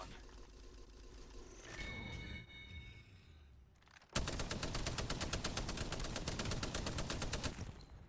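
Video game gunfire in a ranked online shooter match: after scattered shots and game sounds, a sudden loud burst of rapid automatic fire rattles continuously for several seconds.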